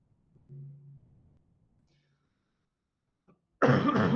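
A brief low cough comes first, then silence, followed by a loud, harsh cough burst close to the microphone at the end.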